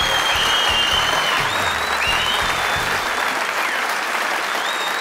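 A studio audience on a Persian Family Feud game show applauds with dense, sustained clapping throughout. A faint whistle or cheer rises over the clapping now and then.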